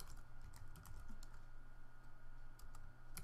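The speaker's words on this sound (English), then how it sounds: "I am going to type in here UISearchBar" Quiet, rapid keystrokes on a computer keyboard, close and continuous clicking for a few seconds over a faint background hum.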